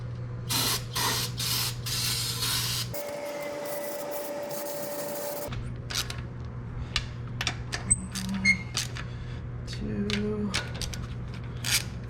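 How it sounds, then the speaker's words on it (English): Parts cleaner sprayed from an aerosol can onto a BMW 3-Series front wheel hub during a wheel bearing replacement, several close hissing bursts separated by short pauses, with some clanks and rubbing in between. "Get some more parts cleaner on this thing."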